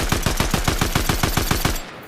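Fortnite weapon fitted with a foregrip and recoil-reducing muzzle firing a rapid automatic burst of about fourteen evenly spaced loud shots, then breaking off abruptly.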